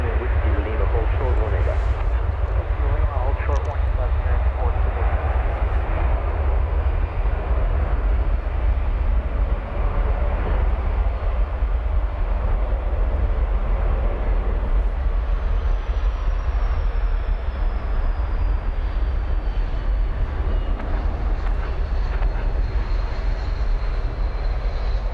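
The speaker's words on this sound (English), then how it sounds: "it's American Flight 945. It's a 777-200." An American Airlines Boeing 777-200 at DFW airport after dark sends a steady, loud engine rumble and whine across the field, with a voice heard over it throughout.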